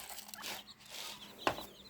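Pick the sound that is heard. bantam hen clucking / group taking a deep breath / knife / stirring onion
bantam hen clucking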